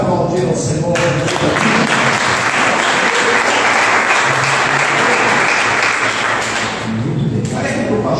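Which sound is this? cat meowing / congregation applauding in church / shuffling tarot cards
congregation applauding in church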